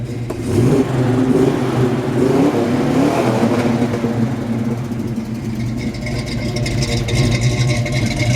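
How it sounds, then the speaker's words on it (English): A 1968 Pontiac GTO's 6.5-liter engine revs up loudly and steadily, its pitch climbing and holding, close by with no talking. "I'm going to rev it up a little bit and let you hear it."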